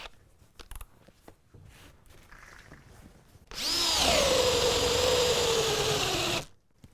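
A Milwaukee M18 1/2-inch drill/driver bores with a threaded-front spade bit, a loud motor whine for about three seconds whose pitch sags as it bogs down, then cuts off abruptly after quiet handling noises.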